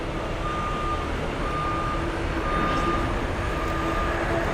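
Broad, steady jet engine roar from a JetBlue airliner at an airport, heading for West Palm Beach, loud and sustained, with a faint intermittent beeping tone over it.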